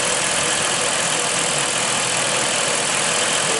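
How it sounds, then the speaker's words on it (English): A Hemi V8 engine idles steadily and loudly, a dense broadband rumble with a faint light ticking attributed to the MDS lifters running continuously underneath. "that sort of light ticking noise. I've been told those are the MDS lifters or valves on the inside"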